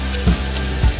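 Ginger fries with browned onions in a pan, a close, steady sizzle with two brief louder bursts as the pieces hit the hot oil.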